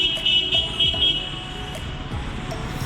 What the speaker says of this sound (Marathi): मागचं हॉर्न पण मारते